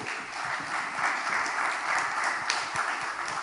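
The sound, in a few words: audience applause at a conference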